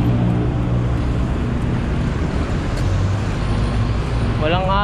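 Dense road traffic on C5 Road near East Ortigas, a loud continuous rumble of cars and heavy vehicles, with a voice speaking underneath.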